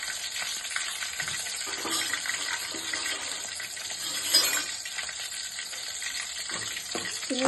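Dried red chillies fry in hot oil, a constant close crackling sizzle with a few light clinks and stirring sounds, no speech.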